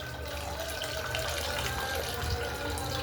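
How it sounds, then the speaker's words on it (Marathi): Water pours steadily into a pot of moong dal for amti with a continuous splashing rush, close and fairly loud, without talking. "पाहिजे तेवढं पाणी घालून घेणार आहेत"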